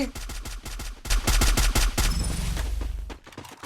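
Rapid automatic gunfire in a shooter video game, loud bursts of closely spaced shots, then a dense stretch of continuous firing that tails off near the end.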